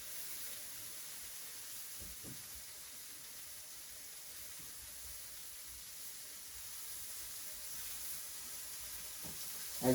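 Portobello mushroom steaks sizzle in a hot pan, a steady, moderately quiet frying hiss that runs unbroken throughout with a few faint pops.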